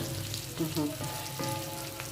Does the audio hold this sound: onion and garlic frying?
yes